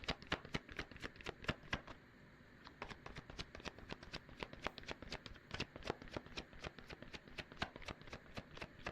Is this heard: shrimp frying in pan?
no